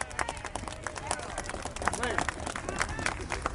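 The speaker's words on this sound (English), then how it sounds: "let's give ourselves a round of applause for being out here" A crowd claps and applauds outdoors, steady scattered clapping with a murmur of voices mixed in throughout.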